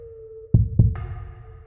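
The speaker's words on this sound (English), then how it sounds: "Every heartbeat was recorded." Two deep, close heartbeat thumps in quick succession over a faint steady tone, followed by a sustained eerie drone, as a horror sound effect.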